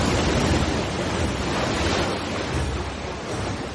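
Roaring tidal bore surging up a river, a dense, continuous rush of churning water that stays loud and steady for the whole stretch, with no voices.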